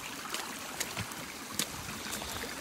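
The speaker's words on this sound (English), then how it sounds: "that's different. And so is walking through this water like this." Footsteps splash and slosh through shallow water on a rainy Appalachian Trail hiking path, with several distinct sharp steps over a steady wet background of trickling, running water.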